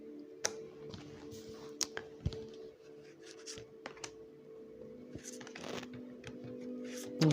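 Tarot cards are handled and covered on a table, with soft shuffling, light taps and occasional sharp card clicks over a steady low hum.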